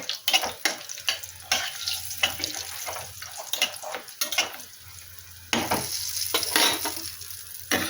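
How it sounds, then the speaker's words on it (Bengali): Oil sizzles steadily as lentil dumplings fry, while a utensil scrapes and stirs in short bursts, with a louder crackling surge near the end; no voices. "বড়িও আমি ভেজে নেব"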